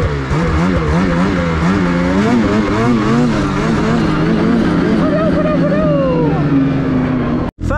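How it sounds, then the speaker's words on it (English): Turbocharged 2024 Ski-Doo Summit X Expert Turbo snowmobile revving in powder snow, the engine rising and falling in pitch as RPMs vary, loud and close with a voice briefly heard. "So let's go and listen to my turbo."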